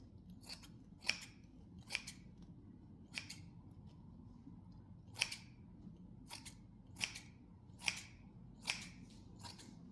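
Scissors snip through stretchy craft material for a winter scene display, a series of about ten crisp, close cuts in an uneven rhythm over a soft, quiet room hum.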